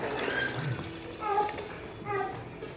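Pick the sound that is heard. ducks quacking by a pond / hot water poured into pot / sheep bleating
hot water poured into pot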